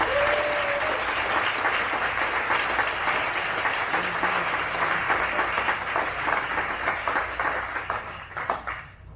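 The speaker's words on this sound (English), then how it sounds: "give them a round of applause." An audience at an all-candidates forum in Canmore gives the candidates a full round of applause, dense steady clapping that tapers off in the final second.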